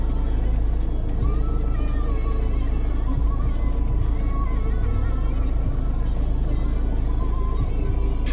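A car being driven into Mayfair, London, on a Friday night, with a steady loud road rumble and engine drone throughout and faint cabin noises over it.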